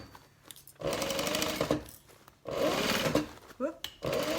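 A sewing machine back stitching a tote bag, running in two bursts of steady rapid stitching with short pauses between, close and fairly loud, with a voice speaking briefly in the gaps.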